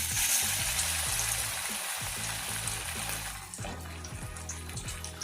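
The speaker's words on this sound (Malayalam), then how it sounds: "ഇനി നമുക്ക് ചിക്കൻ ഇട്ടിട്ടൊന്ന് ഫ്രൈ ചെയ്തെടുക്കാം." Chicken pieces frying in hot oil, a loud, dense sizzle that settles into a steady bubbling crackle with soft rhythmic stirring scrapes, close up and without voices.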